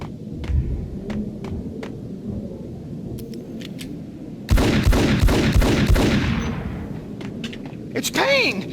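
Burst of rapid gunfire from the shooter video game Max Payne, a dense loud volley of shots after scattered single reports, with voices and game ambience around it.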